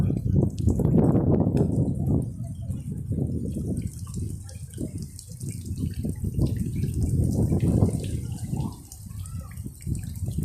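Soapy water splashes and pours steadily at Bondi Beach in Sydney, a continuous close wash of falling liquid with a voice speaking over parts of it.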